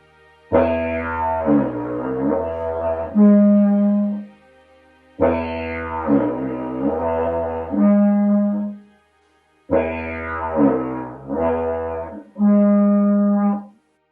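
A wind instrument plays a repeated rhythm pattern on one airflow: a drone, a drag and a horn tone. The three-part phrase is heard three times, each cycle of sliding, harmonic-rich tones ending in a steady held low note, with short pauses between.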